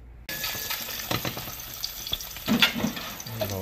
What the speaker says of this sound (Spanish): Vamos ahora a freír la carne. We're gonna fry the meat.